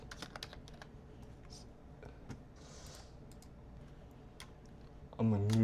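Keys clatter on a computer keyboard in scattered soft clicks and taps at low volume, with a few louder strikes, before a voice briefly cuts in at the end.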